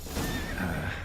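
A horse in The Witcher video game gives a short, high whinny, close by and fairly clear, lasting about a second.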